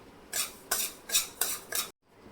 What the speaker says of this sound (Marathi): आता ही वरई अगदी मंद आचेवरती आपल्याला छान भाजून घ्यायची आहे